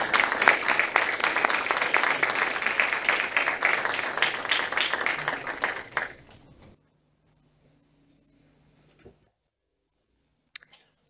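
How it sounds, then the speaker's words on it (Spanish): Audience applause opening an awards ceremony for startups in Valencia, a dense crowd of clapping for about six seconds that fades and stops, leaving near silence with a few faint clicks. "Les recibimos con un fuerte aplauso"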